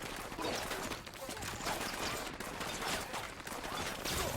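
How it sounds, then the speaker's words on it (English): Gunfire in the video game Ghost Recon Wildlands, a dense, continuous stretch of rapid shots and bursts with no gaps, loud and noisy throughout. "Opening fire on these shitheads."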